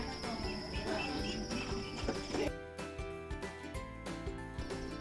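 Dense, continuous chirping of many farmed crickets, shrill and steady, with scattered clicks and knocks over the top.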